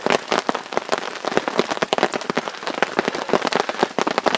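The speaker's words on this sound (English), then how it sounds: "You can see all the little hailstones on the ground." Hail falling on the ground in the Pecos Wilderness near Truchas Lakes, dense rapid patter of hailstones striking close by, loud and irregular throughout with no voices.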